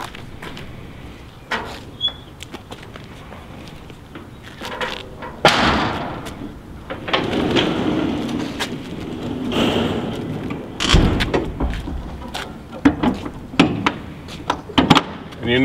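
Morgan ProScape landscape van body panels being folded back up, giving a string of metallic clunks, thuds and sliding-door-like knocks, close and fairly loud, with brief voices between the impacts.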